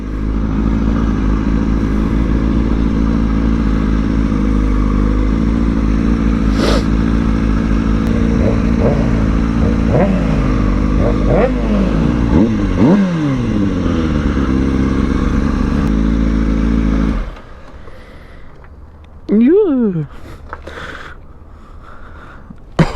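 A motorcycle climbs a hill with a loud, sustained engine drone and rising, falling revs for about seventeen seconds, then cuts off, leaving quieter scattered engine sounds.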